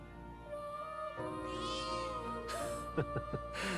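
A cat in the video game Metaphor: ReFantazio gives a faint meow over soft background music, followed by a few short sharp sounds near the end.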